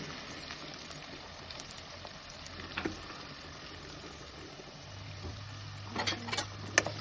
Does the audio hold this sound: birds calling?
no